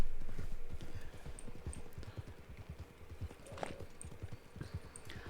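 Horse hooves clip-clop in a steady rapid rhythm while riding in a video game, close and moderately loud, with a few faint high chimes above the footfalls and no talk.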